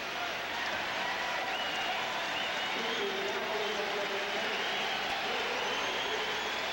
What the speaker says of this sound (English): the chant you hear from the Boston Garden crowd is for Derek Smith coming in the game